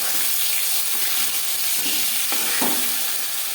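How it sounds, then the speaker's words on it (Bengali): Bata fish fries in hot oil with a loud, dense, continuous sizzle, and a couple of brief knocks come as the piece is flipped to its other side. "মাছ একটা সাইড ভাজা হয়ে গেলে অপর সাইডটা উল্টে দেবো।"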